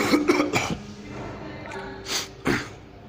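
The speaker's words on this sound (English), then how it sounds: "I've got a bit of a cough" A person coughs in a quick cluster of harsh bursts, pauses, then coughs twice more, close to the microphone and fairly loud, with no talking.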